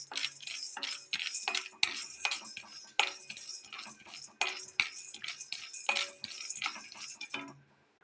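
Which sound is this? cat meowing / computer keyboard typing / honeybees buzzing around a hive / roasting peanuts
roasting peanuts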